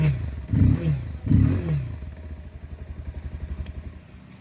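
Close by, a 2025 Bajaj Pulser 220F motorcycle's engine gives two short throttle blips that rise and fall, then settles into a steady, throbbing idle.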